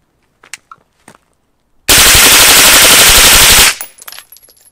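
A burst of 20 rapid 115-grain +P+ 9mm rounds fired at a bulletproof vest on an outdoor range, a loud, dense string of shots lasting nearly two seconds, preceded and followed by quiet footsteps and handling clicks.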